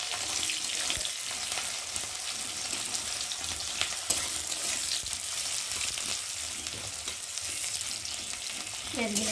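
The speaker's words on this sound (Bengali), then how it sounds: "আর এখন আমি পেঁয়াজগুলো দিয়ে দিলাম" Chopped onions frying in a pan after black cumin seeds were tempered in oil, giving a steady, close sizzle with faint stirring scrapes throughout and no talking.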